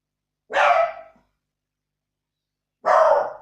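A dog indoors lets out two loud, close barks about two seconds apart, each short and sharp, with silence in between and no talking.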